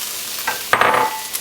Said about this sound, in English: Do a nice little stir fry.